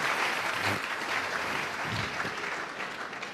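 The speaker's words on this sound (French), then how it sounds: "Est-ce que nous pouvons acclamer très fort?" A church congregation claps and cheers loudly in a steady, continuous wash of applause that holds its level throughout.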